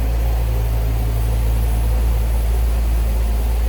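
A 1961 Ford Thunderbird convertible's 390 V8 idles with a steady, low rumble, continuous and fairly loud, with no talking.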